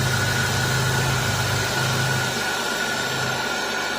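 A Chevy Monte Carlo engine idles steadily with a faint, slightly uneven miss in its hum, set under a constant broadband hiss, with no one talking.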